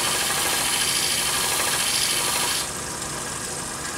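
A knife blade being sharpened on a homemade motorized power strop, a steady loud abrasive rubbing hiss over a motor hum, easing to a softer level partway through; no voices.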